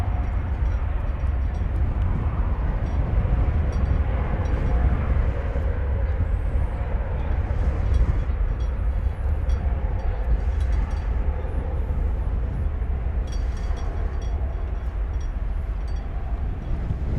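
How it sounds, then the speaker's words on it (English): Jet airliners departing Dallas Fort Worth airport, one flight bound for Honolulu and a Korean Air jet, give a steady, heavy low engine roar that holds at an even loudness throughout, with no voices. "there's the Honolulu flight headed north and Korean Air headed south"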